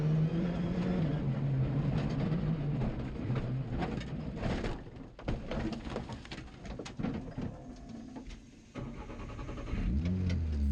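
Rally car at the Azores Rallye, back on its wheels after rolling over, drives a loose gravel stage with a continuous engine note and mechanical clatter; the sound is close and loud throughout, with no talk.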